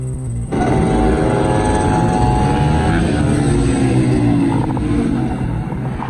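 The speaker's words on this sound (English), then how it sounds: "A watchful eye from a police helicopter was tracking their every move." A loud, steady police helicopter drone with a throbbing rotor beat that kicks in abruptly and holds close and constant.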